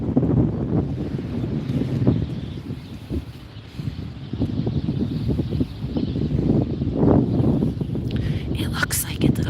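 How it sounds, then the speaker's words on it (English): Wind blows steadily around an outdoor spot near a church, a broad low rumble of gusts buffeting the microphone through the whole stretch, with faint rustling and a brief higher hiss near the end. "It's so windy."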